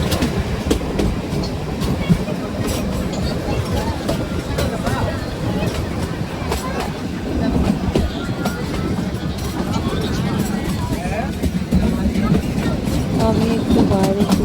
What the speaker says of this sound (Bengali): ট্রেনটি ছুটে চলেছে।